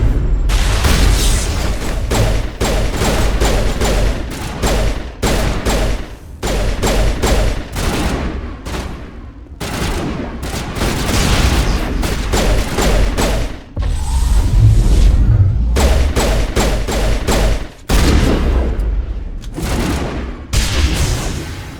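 Sustained gunfire in a Mass Effect firefight, loud rapid bursts of automatic weapons with heavy booms and impacts, nearly continuous with brief gaps, close and intense.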